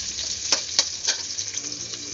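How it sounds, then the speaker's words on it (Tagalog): Garlic and onion sautéing in hot oil for menudo, a loud continuous close sizzle with several sharper spits and crackles pulsing through, no voices. "Mainit na po itong mantika, ilagay na po itong bawang. Sunod ang sibuyas."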